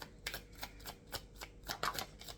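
Tarot cards being shuffled by hand, a series of crisp riffling bursts in an irregular rhythm, close and fairly quiet, with no voices.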